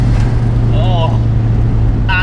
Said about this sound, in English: roar of the exhaust coming back down the rev, a few pops and bangs out the back.